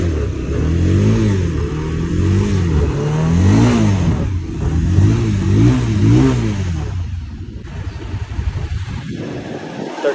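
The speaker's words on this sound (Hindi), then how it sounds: "सिर्फ आवाज़ करेगा इंजन" A motorcycle with a burnt-out clutch plate revs hard during a tug-of-war contest, the engine rising and falling in repeated loud, close surges with no speech.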